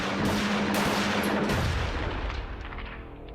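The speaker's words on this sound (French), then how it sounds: "Il reçoit 4 balles dans le dos en représailles." A gunshot sound effect: a heavy, booming report hits loud and close at the start, then its rumbling echo slowly fades out over a few seconds with no voices.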